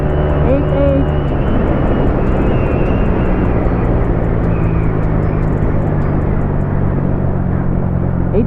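A Honda Click 150 scooter fitted with a 62mm bore-up kit revs hard around 8,800 RPM, a loud, sustained droning whine with a deep rumble that holds steady throughout.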